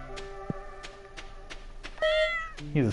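A cat in the farming game Stardew Valley meows twice in quick, bright calls near the end, over soft game music with regular clicking and plucked tones.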